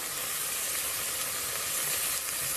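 Cauliflower frying over a high flame in a pan, with turmeric powder just added, gives a steady, loud, close sizzle and hiss that runs unbroken with no talking.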